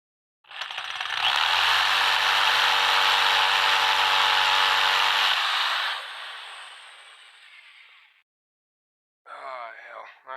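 A drill buzzes and grinds harshly on metal, the bit skating across a car ignition lock, for several seconds, then winds down; a brief voice is heard shortly afterwards.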